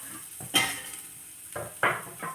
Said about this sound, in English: We're just going to get a little bit of olive oil in there and those onions to start.